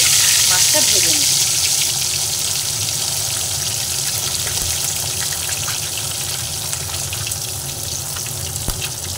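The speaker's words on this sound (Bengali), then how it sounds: "প্রথমেই আমি মাছটা ভেজে নিই" Whole mrigal fish frying in oil, a loud steady sizzle and crackle that eases slightly over time, with a faint brief voice early on.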